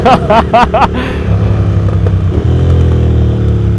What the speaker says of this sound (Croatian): Kako ti puca motor, brate?